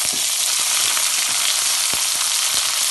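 Shallots and large onions sizzle in hot oil with mustard seeds, fennel and fenugreek in a pan for chicken curry, a steady, loud, dense frying hiss with a few soft taps throughout.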